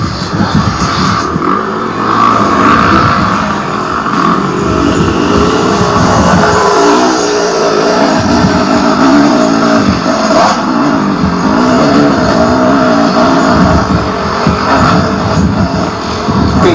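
Two-stroke enduro motorcycle engine at the 1987 Hi Mountain Enduro, loud and close, revving and bogging with clutch slipping in second gear, pitch rising and falling in uneven surges over continuous mechanical drone.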